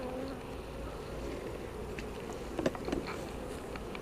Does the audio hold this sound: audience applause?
no